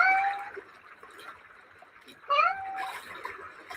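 A house cat gives two short, loud meows about two seconds apart, heard close by in an otherwise quiet room.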